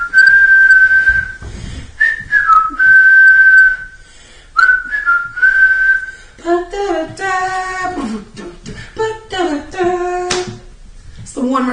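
A man whistles a wrestling theme in clear, sharp phrases, then hums and sings the tune in a voice, with a few hand claps.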